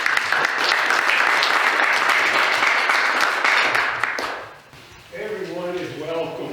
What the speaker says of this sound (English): So if we got a round of applause.